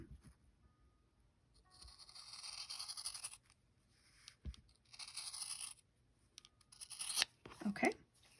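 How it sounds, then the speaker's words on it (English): Large scissors snip through quilt fabric in several bursts of crisp slicing and crunching strokes, close by and fairly quiet, with brief pauses between cuts. "I have these giant scissors"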